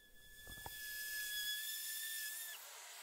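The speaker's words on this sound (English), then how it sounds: "And then just a general rough sanding." A faint, steady high-pitched whine of a power sander rough sanding wood for a coat rack, running continuously, with a couple of soft knocks early on, then the pitch dips slightly as it eases off.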